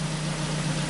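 A Ford Focus engine with a misfire problem idles steadily, a close, continuous low hum with no audible stumble over the short stretch.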